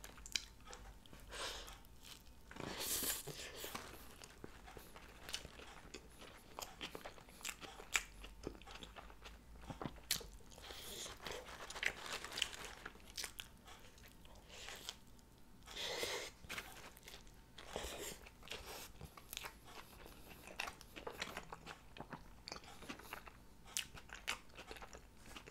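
Close, steady crunching and biting of a Taco Bell crunchy taco shell that has gone slightly soft, with repeated chewing and snapping bites over about 25 seconds and no talking.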